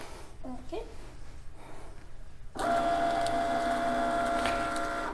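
Cricut cutting machine starting to scan registration marks on a printed sheet: a quiet room with faint handling, then a sudden steady motorized whir with a thin whine that continues to the end.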